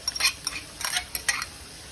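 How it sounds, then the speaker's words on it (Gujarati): Grated capsicum stirred into veg momo filling in a pan, a few quick close scrapes and clinks of a spoon against metal, soft and brief. "સારી રીતના આપણે મિક્સ કરીશું।"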